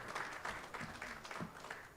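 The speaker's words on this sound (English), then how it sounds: "Round of applause, please." An audience at a media launch event for a horse-racing meeting in Durban applauds, with scattered, fairly faint clapping in the room.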